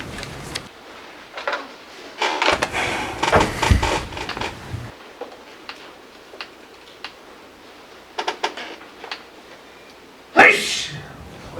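One person sneezes loudly and sharply near the end of a meeting-room stretch filled with shuffling, tapping and handling noises at varying levels.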